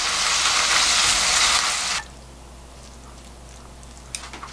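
Loud, steady sizzling of beef bulgogi with shepherd's purse stir-frying in a hot pan for about two seconds, then it cuts off, leaving quiet room tone and a few faint clicks.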